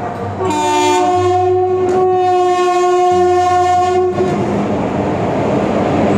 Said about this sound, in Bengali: মালগাড়ি ঢুকছে একটা।